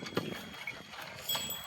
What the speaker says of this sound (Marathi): यामध्ये बैलाच्या सहाय्याने डवरणी करत आहे।